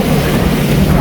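A boat rides across the lake at Montreux, with a loud, steady roar of wind buffeting the microphone and rushing water around the hull.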